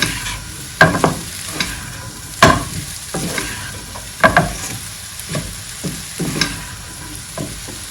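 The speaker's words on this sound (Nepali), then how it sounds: "आधा चम्चा जति गरम मसलाको धुलो राखेर एकछिन चलाइदिन्छु।" Garam masala powder frying in a pan for Nepali-style khichdi is stirred with a utensil, giving irregular scraping strokes over a soft, steady sizzle.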